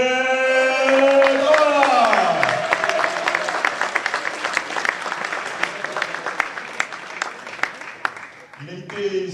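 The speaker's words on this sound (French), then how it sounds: "Merci d'applaudir Benedek." Audience applause greeting table tennis player Benedek at a team match, a crowd clapping steadily with distinct sharp claps, while an announcer's voice carries over the start and music plays beneath.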